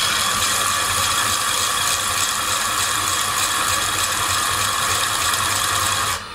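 Woodwork chisel flattened on the back against a diamond horizontal sharpening system, giving a steady, loud, continuous grinding rasp with a ratcheting texture that holds evenly for about six seconds before easing off at the very end.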